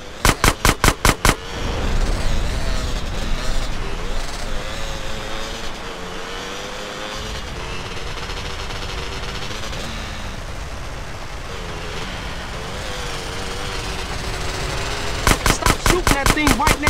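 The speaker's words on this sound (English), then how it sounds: "Stop shooting that thing right next to my ear!" Close-range bursts of automatic gunfire crack right beside the listener in GTA San Andreas, with rapid volleys at the start and end framing a stretch of roaring vehicle engine and wind noise.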